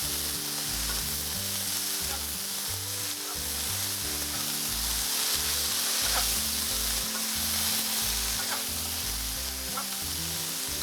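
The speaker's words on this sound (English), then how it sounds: "you're gonna hear the sizzle now" Frozen green beans sizzle steadily in a hot pan, a dense constant crackle with faint stirring, close and even, while a low rhythmic music bed runs underneath throughout.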